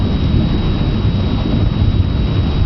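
Thunder rolls through a lightning storm as a deep, continuous rumble at steady loudness, with a hiss like rain underneath and no one speaking.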